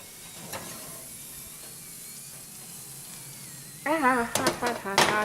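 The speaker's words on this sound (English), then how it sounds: "Oh, sizzle, sizzle." Steady hissing sizzle of roasting vegetables runs throughout, then louder clattering and a voice break in near the end.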